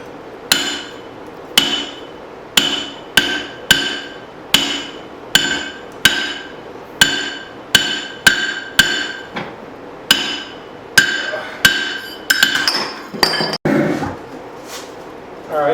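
Steady hammer blows ring out on a forged axe hatchet being bent and straightened, about twenty sharp metallic strikes in a loose rhythm, close and loud, quickening into a rapid flurry near the end.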